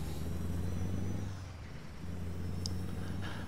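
A Mack R truck towing a lowboy trailer in American Truck Simulator drones with a steady low engine rumble that dips briefly, then returns, with a faint short hiss near the end.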